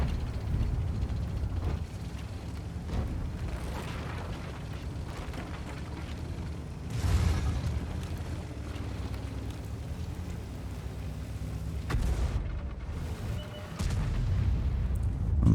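Tank gun shots from a UDES 15/16 tank destroyer in World of Tanks: a few heavy booming blasts spaced several seconds apart over a steady low engine-and-battle rumble, with no voices.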